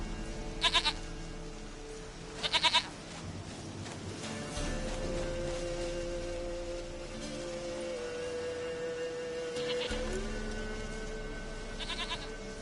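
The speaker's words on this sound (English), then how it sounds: "sweetest goat." Goat bleats from The Witcher 3: Wild Hunt, two short bright cries early on and more near the end, over a steady hum of game music and ambience.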